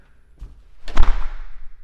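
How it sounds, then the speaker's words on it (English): A house door in a new Meritage Homes model home swings shut with a soft bump followed by a heavier thud, close and fairly loud in a quiet room with no talking. "Let me get the door shut."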